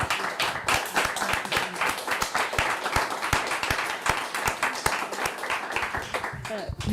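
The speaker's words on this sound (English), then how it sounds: "we would like to give you a first round of applause for extraordinary revelation" An audience at an art exhibition opening claps together in a steady, dense round of applause, close and fairly loud, with a voice briefly audible beneath it.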